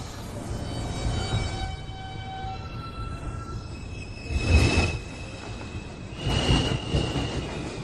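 A Manhattan-bound NYC subway 2 train pulls into the 215th Street elevated station, wheels grinding and squealing with rising rumble bursts as cars roll past, heard alone at close range.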